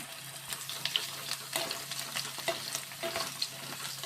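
Paneer for a Bengali matar paneer lightly frying in a pan with no salt or turmeric yet, a steady soft sizzle broken by occasional stirring scrapes and clinks, alone at moderate level.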